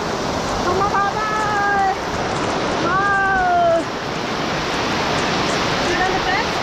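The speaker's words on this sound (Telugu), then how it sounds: "వాటర్ ఫాల్ కొండల నుంచి పడుతుందండి వాటర్" Waterfall pouring down rocky hills in a rainy tribal forest area of Araku, a steady loud broadband rush of falling water throughout, with a few tonal whistles or calls rising briefly above it.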